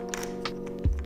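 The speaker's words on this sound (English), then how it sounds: "we're just going to pop these batteries into the handle." Batteries pushed into the handle of a camera crane stabilizer give a single low, close thunk near the end, after a steady background hum.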